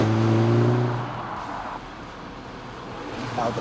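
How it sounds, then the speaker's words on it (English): A Mercedes-Benz CLA45 AMG with its 2-litre turbocharged inline four-cylinder petrol engine drones loudly and steadily at first, with strong harmonic tones, then eases off into a quieter rumble before swelling slightly again at the end. "the CLA45 AMG comes with an all-new engine from Untitled, a 2-litre inline 4-cylinder turbocharged petrol engine"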